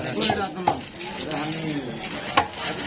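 A knife cutting a big Kutla fish at a fish market, with a few sharp chops and scraping sounds amid market clatter, under ongoing talk.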